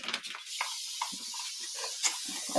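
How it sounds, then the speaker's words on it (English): Adhesive sprayed from an aerosol can onto the backs of wooden center pieces for an Art Deco upcycle, a series of short close hissing bursts with brief gaps between them. "When you spray the back of these, it helps"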